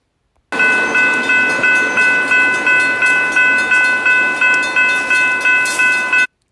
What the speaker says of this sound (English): very light power on this container train. Only 2 locomotives